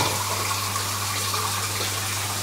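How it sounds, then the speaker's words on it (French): About a litre of water poured into a cooking pot for a squash dish, a steady continuous gushing splash, close and even throughout with no talking. "Là j'ai que de l'eau, eh ben, je mets de l'eau."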